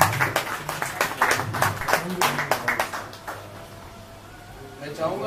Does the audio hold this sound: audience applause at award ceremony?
yes